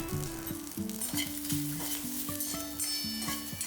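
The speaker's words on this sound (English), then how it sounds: "cumin seeds and diced potatoes and saute for 30 seconds" Cumin seeds and diced potatoes sautéing in a pan give a steady close sizzle and frying crackle, heard under a melodic background tune with no voice.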